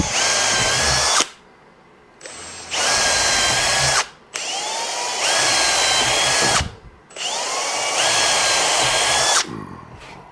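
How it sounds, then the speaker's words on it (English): A power drill bores three ventilation holes in a wooden screech owl nesting box, with three loud, close whining bursts of several seconds each, separated by short pauses. "couple ventilation holes above the main hole, so I'm gonna just put 3 or 4 of them in"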